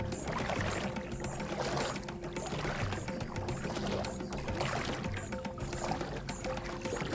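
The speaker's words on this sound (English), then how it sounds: "take a walk through the little stream bed here" Wading along a shallow stream bed in rubber water boots, with steady splashing and churning water at close range that continues without a break.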